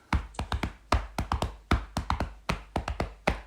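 Crisp taps in a steady three-against-two polyrhythm, two rhythms layered against each other, repeating closely and evenly with no voices.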